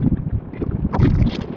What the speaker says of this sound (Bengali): এত পরিমাণ হাওয়া চলছে